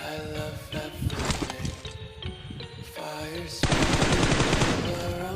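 Rapid bursts of video game gunfire, automatic fire rattling in quick volleys, loud and close amid other game sounds.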